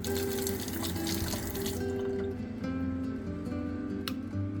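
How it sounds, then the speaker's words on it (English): Water runs from the tap of a SimPure Q3-600 tankless reverse osmosis system into a glass, a steady close stream with faint ringing tones, easing near the end, and no talk. "So we'll get us a full glass of water here."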